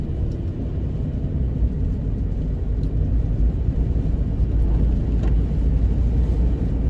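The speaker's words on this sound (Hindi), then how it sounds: "खिड़कियों पे आवाज आ रही है हवा की, क्योंकि ये पानी के पास का एरिया है ना बिल्कुल" Steady wind buffeting the windows of a car parked by the water at Birkenhead Wharf, a continuous low broadband rumble holding even and fairly loud throughout with no voices.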